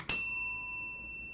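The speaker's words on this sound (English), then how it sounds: "The analog terminal bell is a bell that rings anytime a bell character is displayed on your terminal." A USB analog terminal bell struck once, a single clear metallic ding that rings out loud and close, then decays slowly over more than a second with no other sound.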